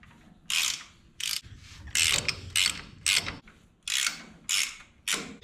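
A ratchet wrench turns bolts on a Ford 8N tractor during a PTO conversion, about nine loud, close bursts of rapid ratcheting clicks separated by short pauses.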